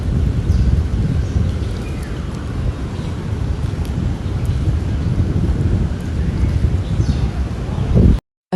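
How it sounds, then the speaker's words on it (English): Thunderstorm wind roars in a heavy, rumbling wash with pounding flash-flood rain in New York City, a constant stormy blast close to the microphone until it cuts off abruptly. "A fast-moving storm front is unleashing flooding rains and high winds on New York City"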